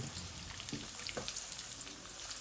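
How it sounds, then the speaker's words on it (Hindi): Onion fries lightly in oil with a bay leaf, giving a soft, steady, crackling sizzle with no talk over it. "हल्का सा फ्राई करेंगे हम प्याज को।"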